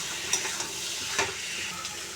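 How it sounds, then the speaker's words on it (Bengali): Prawns stir-fried with chopped tomato in a pan, a continuous close sizzle broken by a few sharp scrapes and clinks of the spatula against the pan. "এবার দেবো চিংড়ি মাছগুলোকে দিয়ে ভালো করে কষিয়ে নেব।"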